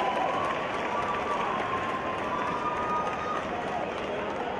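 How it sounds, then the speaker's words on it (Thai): Crowd applause and cheering at a Thai boxing match between rounds, a dense, steady wash of clapping and crowd noise that holds at an even level throughout. "มีเสียงปรบมือฮะ"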